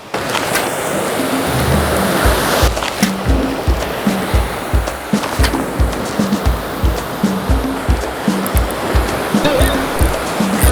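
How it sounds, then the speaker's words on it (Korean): Ocean waves break and surge against the shore off Jeju Island during fishing, a loud continuous rushing wash with rhythmic low thumps throughout, no voices. "에이 진짜로 파도야."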